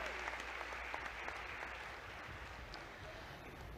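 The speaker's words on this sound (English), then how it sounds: "Let's give the ASEAN foreign ministers and heads of delegation a big round of applause" Audience applauding ASEAN foreign ministers and heads of delegation at the ASEAN 50th anniversary grand celebration, a steady, dense clapping that holds evenly throughout and sounds somewhat distant.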